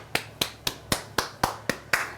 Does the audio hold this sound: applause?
yes